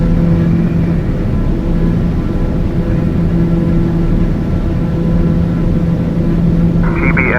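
Loud, steady turboprop drone fills the cockpit of a TBM 850 as it climbs out after departure from Fort Worth, a constant humming roar with a brief crackle of radio voice at the end.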